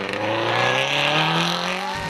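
A modified Subaru rally car drives hard with its engine loud and steady at high revs, a strong harmonic drone rising slightly in pitch across two seconds, with a faint hint of tyre noise and no talk.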